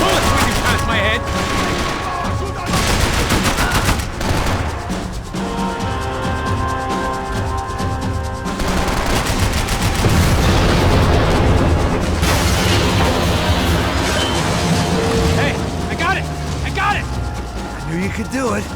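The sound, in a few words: gunfire in video game Max Payne 3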